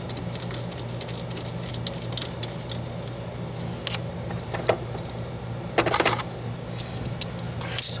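A 15 mm metal wrench is picked up and handled during a coolant filter install on a Powerstroke 6.0 diesel, giving scattered light metallic clinks and jangles of varied loudness over a low steady hum.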